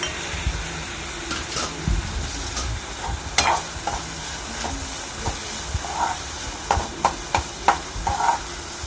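Tomatoes and onions sautéing with salt and chilli powder for kothu parotta, a steady sizzle with frequent metal spatula taps and scrapes that quicken toward the end, close by, no voices.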